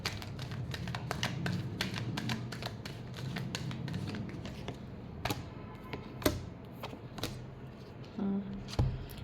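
Tarot cards being shuffled by hand, a soft rustle broken by quick papery snaps and taps, close and quiet, ending in a few sharper knocks as the deck is squared.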